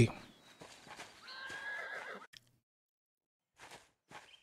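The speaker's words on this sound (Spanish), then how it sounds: "los caballos" Horses whinny in the medieval video game Pentiment, with clip-clop hoofbeats under a voice for about two seconds, then near silence and two short faint bursts.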